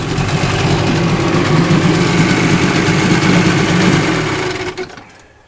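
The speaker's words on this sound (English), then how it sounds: "It idles better." A 10 HP Johnson outboard engine idles steadily and close by, a loud continuous mechanical drone that holds for about five seconds before cutting out abruptly at the end.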